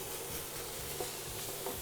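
Cauliflower and onion rice frying in a pan, a steady dense sizzle with slight stirring scrapes, close and even, with no talking.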